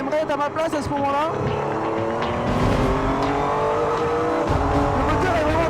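Renault Sport Trophy race car on a circuit, its engine droning steadily at close range with rising and shifting harmonics throughout, partly under a voice.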